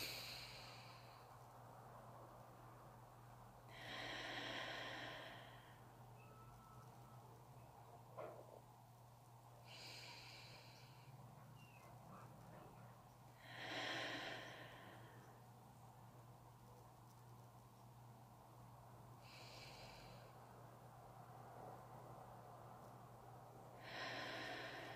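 Slow, deep mindfulness breaths, about five soft airy inhales and exhales spaced several seconds apart over a low steady hum, quiet and close.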